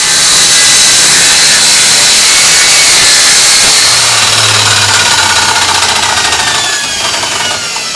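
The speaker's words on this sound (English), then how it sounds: "I don't have a great big bandsaw, I've only got my rib snorter, so that I've got the thin panels for the back." A small bandsaw rips yew or ash into thin panels for the back of a Windsor chair, giving a loud, steady cutting roar that runs the whole time and eases slightly near the end, with no talking.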